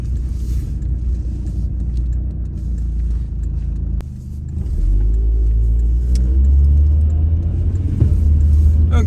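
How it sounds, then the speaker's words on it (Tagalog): A 2005 Honda Accord cruising on a highway during a test drive, heard from inside the cabin as a loud, steady low engine and road rumble that swells as the car speeds up, with no voices. "nasa Highway 76 na po tayo. Patuloy ang test drive natin sa sasakyan"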